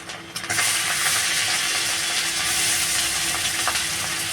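Ginger tempering hits hot oil for a Bengali vegetable and prawn chorchori stir-fry: a sudden loud hiss bursts in after a brief quiet start and then holds as a steady, close, bright sizzle.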